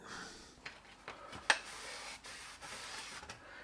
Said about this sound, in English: then I get out the 600 grit sandpaper and give that a shot